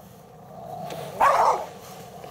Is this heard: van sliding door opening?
no